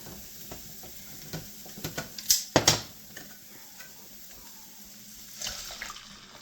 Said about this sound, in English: We're going to add a little bit of water to that.